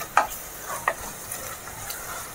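Onion and turmeric powder frying in a pan for chole, a quiet, steady sizzle broken by a few sharp spoon taps and stirring clicks, with no talking.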